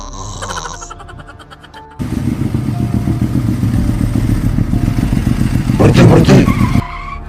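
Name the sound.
motorcycle riding, in animated film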